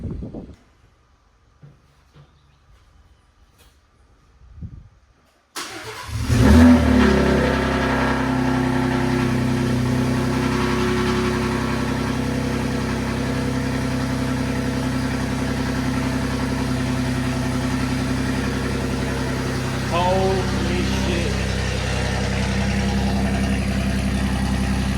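Ford Ranger Raptor fitted with a dump pipe exhaust, cold-starting after a few seconds of near silence, then settling into a loud, steady, rumbling idle close by, with a brief rev swell near the end.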